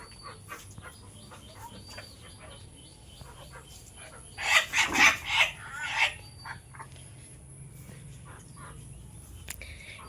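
Birds on a small farm with three hens, five quail and two pigeons: a short burst of four or five loud, close clucking calls stands out midway against faint background chirps and distant noise.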